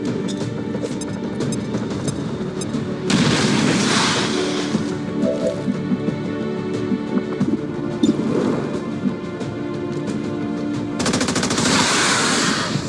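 Sustained automatic gunfire and explosive crashes in an XCOM 2 battle after a grenade throw, loud and continuous, with sharper bursts swelling near the start and end.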